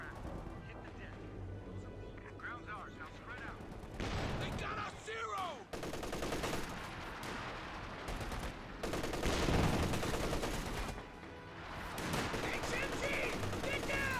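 Machine gun fire and battle noise from the Company of Heroes 2 strategy game, with dense rattling bursts and crashing impacts layered under continuous game audio and commentary speech.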